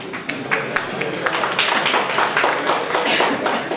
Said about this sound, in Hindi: अपने मित्रों के लिए तो तालियां बजाएं